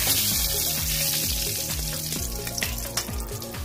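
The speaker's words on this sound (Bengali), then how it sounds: "মাস্টার্ড অয়েল দিয়েছি, তেজপাতা ফোড়ন দিয়েছি, দারচিনি, লবঙ্গ।" Bay leaf, cinnamon and cloves fry in hot mustard oil, a dense, loud sizzle that stays constant at close range, broken by faint knocks and scrapes.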